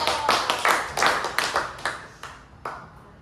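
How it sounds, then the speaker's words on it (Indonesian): Applause from a class of students during a classroom roleplay, a burst of claps that thins out into a few scattered, separate claps fading over about three seconds. "Beri tepuk tangan untuk Rados."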